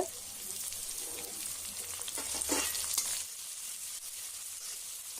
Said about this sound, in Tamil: இப்போ கொஞ்சம் நல்லா வதங்கிடுச்சு